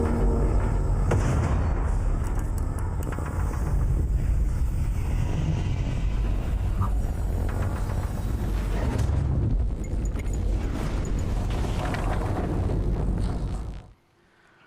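Guns in an Unreal Engine game demo firing in a dense, continuous barrage of heavy booming shots that roll together for most of the stretch, then cut off abruptly near the end.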